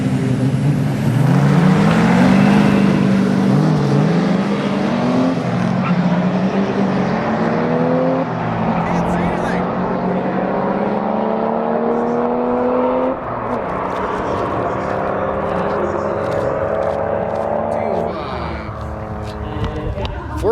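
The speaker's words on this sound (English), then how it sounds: "A Nissan Patrol with a Duramax in it." A Nissan Patrol with a Duramax diesel engine swap drives at high speed in Australia. Its loud, continuous engine drone climbs in pitch and shifts through gears, holding steady and close throughout.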